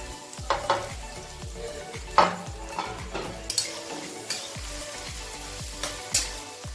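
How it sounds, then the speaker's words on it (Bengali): Hot oil, likely carrying some water, spatters and crackles hard in a pan while fried rice and chicken kasha are being made, with steady sizzling broken by repeated sharp pops and stirring clatter. "এত ফাটছে, সম্ভবত জল ছিল, পুরো ছিটকে আসছে।"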